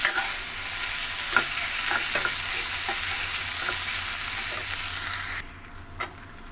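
Banana flower mixture being stirred and fried in a pan over a low-to-medium gas flame, a steady loud sizzle with scraping stir strokes throughout that cuts off abruptly near the end, leaving a quieter background with one last stir.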